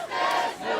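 A crowd of protesters arriving at the Multnomah County Sheriff's Office in Northeast Portland, heard as a brief swell of distant massed shouting.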